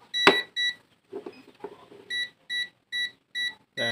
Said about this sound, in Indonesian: dia akan bunyi ya kalau teralih di setrum